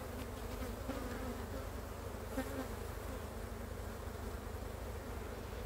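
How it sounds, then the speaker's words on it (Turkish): A steady, close drone of many honeybees buzzing around a hive during colony splitting, continuous and unbroken, with a low hum beneath the swarm. "Şimdi buradaki tarlacı arılar tekrar kovanına dönecek"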